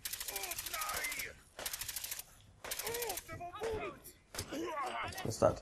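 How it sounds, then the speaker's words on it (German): Rapid automatic gunfire from the video game Fallout 4 comes in three loud bursts, then scattered shots and mechanical clatter, with a voice talking over the later part. "Die Schüsse noch."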